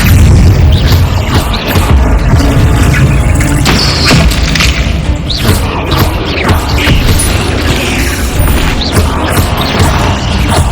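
In the Hogwarts Legacy video game, loud booming blasts from the Bombarda spell mix with crashing debris and mechanical clatter throughout, sounding dense and close.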